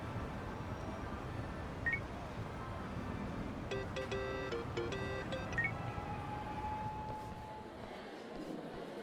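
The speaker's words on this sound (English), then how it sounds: "Kasuga, call me on your phone." Phone keypad tones in Yakuza: Like A Dragon beep in two quick bursts of dialing, heard faintly over a steady wash of outdoor ambience.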